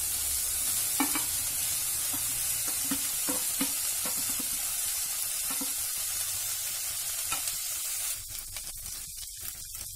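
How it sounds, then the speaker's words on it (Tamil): Okra (lady's finger) sautés in a pan for a Tamil tamarind kulambu, giving a steady soft sizzle with repeated scraping stirs of a spoon, then sharper clatters near the end. "வெண்டைக்காய் நல்லா வதங்கிடுச்சு"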